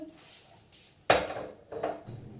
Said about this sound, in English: Let me add back the chopping board.